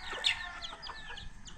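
Chickens and a rooster clucking on a farm, a run of short, moderately loud calls and clucks repeating steadily with no talk.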